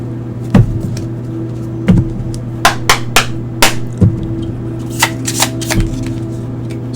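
Tarot cards being shuffled close up, with sharp riffling bursts and soft slaps of the deck at irregular intervals over a faint steady hum, no speech.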